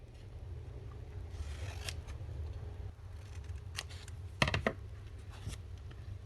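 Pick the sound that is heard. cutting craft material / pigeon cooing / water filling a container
cutting craft material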